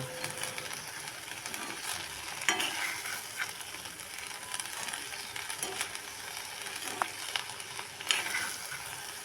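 Dhenki greens fry with salt and turmeric in a pan, giving a steady, fairly quiet sizzle broken by scraping stirs and occasional sharper clicks from the spatula.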